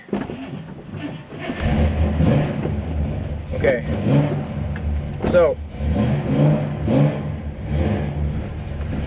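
A 1965 Chevrolet Impala SS with a manual transmission idles and revs inside the cabin, its engine swelling in a few rises and falls beneath someone talking over it.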